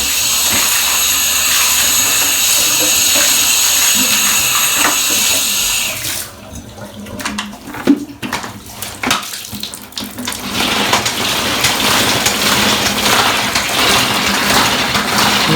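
Tap water gushes steadily into a bathroom bathtub, a loud broadband hiss that cuts off briefly midway, then resumes and runs on.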